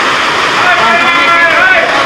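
Heavy rain pours down on buffaloes in the open, a loud, dense, unbroken hiss of water, with a voice faintly audible beneath it.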